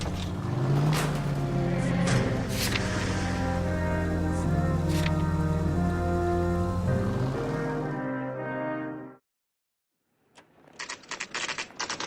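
A car driven in L.A. Noire: a steady, humming engine drone with a rising tone holds loud for about eight seconds, cuts to silence, then faint clicking ticks return.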